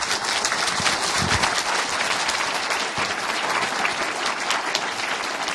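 A church congregation at an early-morning prayer service breaks into sustained, dense applause welcoming the pastor, Rev. Lee Jae-hoon, a steady roar of many hands filling the hall at full volume throughout.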